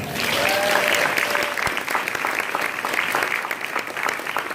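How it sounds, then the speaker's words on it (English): Sustained audience applause fills the space at a cooking demonstration event, a dense, steady wash of many hands clapping at close range, with no talk over it. "A round of applause to Ella Mills."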